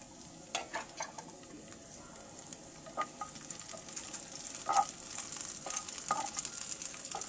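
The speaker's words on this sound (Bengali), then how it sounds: "কাঁচামরিচ কুচিটা আমি পেঁয়াজ এবং রসুন কুচির সাথে ভেজে নিচ্ছি দেখুন" Chopped green chilies fry with onion and garlic in a pan, giving a soft sizzle that builds steadily louder, broken by a few light spatula scrapes and clicks as the mix is stirred.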